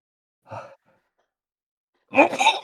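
A single short sneeze-like burst is followed after a pause by a louder, longer breathy exhalation, both close and clear in an otherwise quiet room at a chess tournament.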